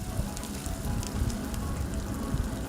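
Yang chao fried rice ingredients stirred in a hot pan give a close, steady sizzle and crackle with dense frying noise and no talking.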